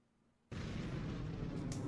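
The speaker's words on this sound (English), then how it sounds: "you all hear a loud bang, like an explosion" A loud, sustained explosion bang bursts in abruptly after a quiet half-second, filling the space with a dense, rumbling roar that holds steady to the end, heard during a tabletop Dungeons & Dragons session.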